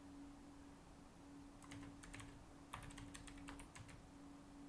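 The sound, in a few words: typing on a computer keyboard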